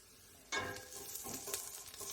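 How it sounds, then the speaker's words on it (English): Vegetables for chicken noodle soup hit a hot pan with a sudden loud sizzle, then keep frying steadily while being stirred, with a couple of brief scraping bursts. "I'm going to saute these up."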